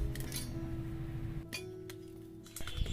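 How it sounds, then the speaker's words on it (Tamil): A metal idli pot lid set tightly over a kadai of popcorn on a wood-fire stove, with a couple of sharp metallic clinks that ring on briefly, near and fairly clear, with no talking. "நான் வந்துட்டு இட்லி மூடி போட்டு நல்லா டைட்டாக மூடி வச்சிடுறேன்"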